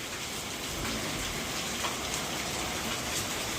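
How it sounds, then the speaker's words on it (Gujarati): Steady, dense rainfall pattering on surfaces in Bhavnagar, India, a continuous even hiss throughout with no voices. "વરસાદમાં નાવાની મજા આવે તને?"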